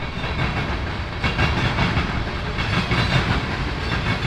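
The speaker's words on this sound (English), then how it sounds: "One of my favorite sounds while rail fanning is if trains are going over a set of diamonds." A train rolls through Cordele, Georgia, its wheels clattering over a rail diamond crossing in a steady, loud rumble with rhythmic clacking pulses throughout.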